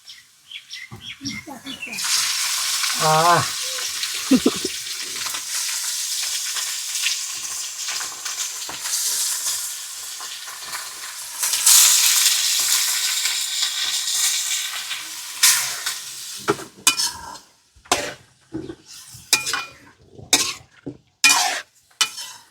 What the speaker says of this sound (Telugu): ముందుగా క్లీన్ చేసి పెట్టుకున్న ముక్కల్ని నూనెలో వేస్తాను